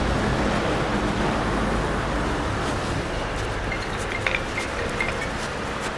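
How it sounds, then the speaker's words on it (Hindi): Water is poured over a glass-coated car body, producing a continuous close rushing splash that holds steady throughout, with no talking. "पानी डाल के दिखा देता हूँ।"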